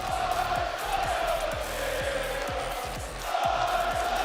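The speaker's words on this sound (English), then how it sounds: "The crowd serenade the winners of El Splashico." A large esports crowd at a Rocket League championship major sings and chants for the winning team, a dense, steady roar of many voices with rhythmic, repeating swells filling the hall.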